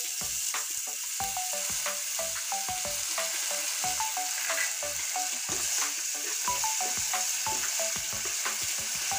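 Cumin and garam masala paste hits hot tempering oil, giving a loud, constant sizzle with rapid crackles and quick stirring scrapes throughout.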